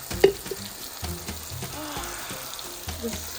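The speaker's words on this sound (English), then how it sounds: "I just added the blended garlic, ginger, onions, and a little bit of the tomatoes in here." Blended garlic, ginger, onions and a little tomato fry for a quick bean or tomato stew, a close, steady sizzle with a few soft stirring knocks against the pot, no talking.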